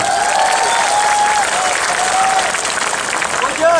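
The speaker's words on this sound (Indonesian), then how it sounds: "Tepuk tangan dulu" Audience at an Indonesian religious lecture breaks into steady applause, a dense, even clapping that fills the space and carries on throughout, with some whistle-like tones and voices faint beneath.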